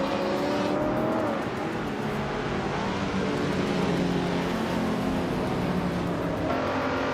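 Video-game race on a figure 8 track led by a 1963 Jaguar E-Type lightweight, engines droning and revving continuously at high volume as cars pass, engine pitch rising and falling.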